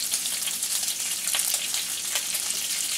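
Bacon frying in a skillet over medium to medium-high heat gives a steady, close hiss and crackle with scattered pops, heard alone without talk.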